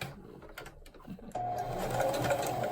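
A sewing machine runs steadily as it stitches along the edge of a fabric COVID-19 face mask, starting after a second of quiet handling noises and then humming continuously and close up.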